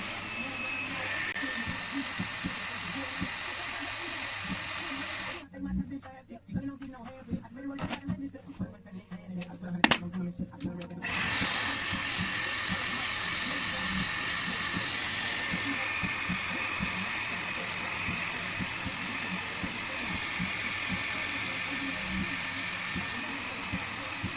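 Dyson Airwrap hair styler blowing air while curling hair, a steady whirring hiss that drops out for several seconds in the middle, then returns at an even level.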